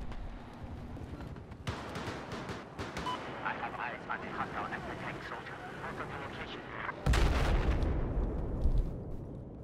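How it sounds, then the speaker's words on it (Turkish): An attack boat blows up during a Battlefield 4 naval battle on the Lost Island map. Steady game combat noise with scattered shots builds to a sudden loud, broad explosion burst near the end. "Atak bot patladı."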